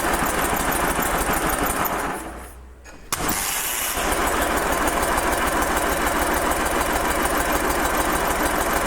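Motorcycle engine, one of a batch imported from Germany, catches after a starting attempt and settles into a steady, loud idle with a rapid even rhythm, after a brief dip and sharp pop near the start.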